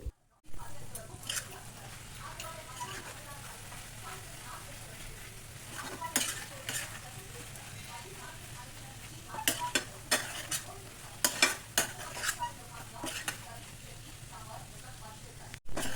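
Ground masala being stirred into eggplant curry in a pan, with irregular scraping strokes of a spoon and soft sizzling over a steady low hum, clustering into busier bursts toward the end.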